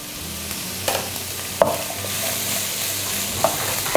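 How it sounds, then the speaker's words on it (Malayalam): Sliced onions sizzle steadily in a pan for a duck roast while a spoon scrapes and stirs, giving a few sharp clinks over the constant hiss; nobody speaks. "ഇതിലേക്ക് നമ്മൾ സവോള ചേർത്ത് കൊടുക്കുന്നു."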